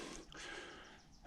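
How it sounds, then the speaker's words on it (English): Deep, heavy breathing of a hiker climbing uphill in the Outeniqua Mountains, close to the microphone, with a few breathy gasps and exhales and no talk. "But listen to my deep breathing here."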